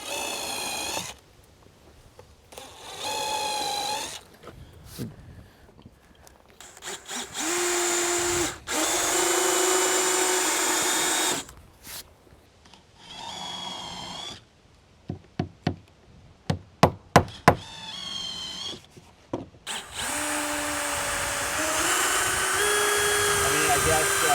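A power drill drives fasteners into Trex composite deck boards in repeated bursts of whirring, broken up by sharp taps and knocks and by stretches of talk between the bursts.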